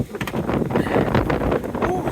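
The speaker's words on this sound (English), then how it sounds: "it is cold and windy. A lot of wind." Strong, cold wind gusting across an outdoor mic beside a Tesla Cybertruck, a loud continuous buffeting roar with surging gusts and a few faint knocks.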